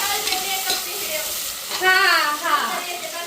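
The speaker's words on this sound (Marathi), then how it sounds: "तर हे बघा कांदा आणि टोमॅटो परतून घेतलाय" Onion and tomato sautéing in a pan make a steady close sizzle, with stirring scrapes and brief squeaky, watery clatter toward the end.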